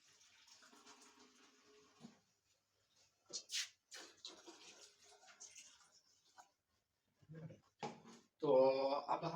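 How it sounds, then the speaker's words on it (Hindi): Water pours into a cooking pot in a home kitchen for making packet noodles, heard in short splashing bursts between quieter handling noises, ending with a louder pour. "मैं सबसे पहले 1 कप पानी डालूंगा"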